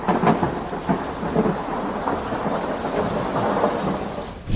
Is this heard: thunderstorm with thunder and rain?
yes